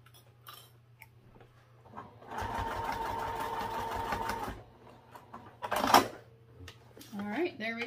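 A sewing machine bastes straps onto a sling bag in a rapid, rattling run of about two and a half seconds, with softer handling clatter and a voice before and after.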